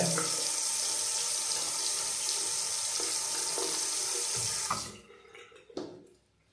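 Tap water runs strongly and steadily into a sink while hair is wetted for a hair mask, then cuts off near the end, leaving a few faint drips and splashes.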